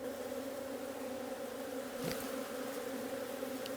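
A steady, dense buzzing of many honey bees, close and continuous, with a brief louder swell as one passes near.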